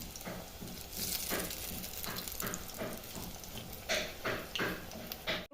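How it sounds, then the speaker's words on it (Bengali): Cauliflower pakoras frying in hot oil, a quiet, steady crackling sizzle with scattered bubbling pops and a few louder bursts near the end, no speech. "এই দেখুন গরম তেলে সব পকোড়াগুলো দিয়ে দিয়েছি আমি।"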